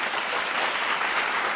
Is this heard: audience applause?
yes